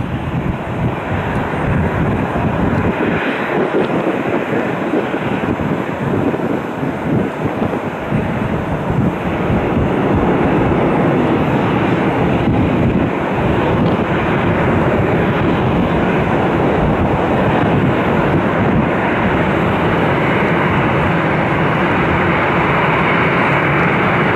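United Airlines Boeing 737 taxiing at Cleveland Hopkins Airport, a steady loud jet engine roar with wind buffeting on the microphone, continuous and fairly close for the whole stretch.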